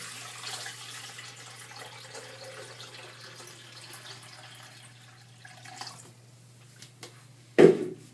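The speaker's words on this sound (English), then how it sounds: "You're going to pour some water" Water pours into a Vitamix Pro 750 blender container as a faint, steady trickle under a low electrical hum, followed by a short, sharp clunk near the end, with no talking.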